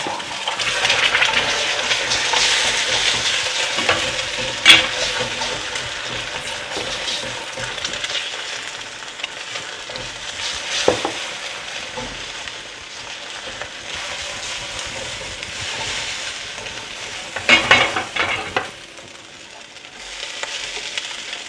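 Eggs dropped into hot oil in a wok for fried rice give a loud hissing sizzle that rises and falls, with a few sharp clatters of utensils against the pan over a long stretch, no speech.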